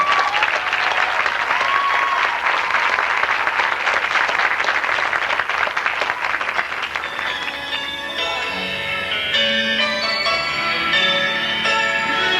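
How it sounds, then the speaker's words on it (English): An audience applauds a performer introduced on stage, the clapping sustained and full before giving way to music. "A nice round of applause for Risha Feuerbacher."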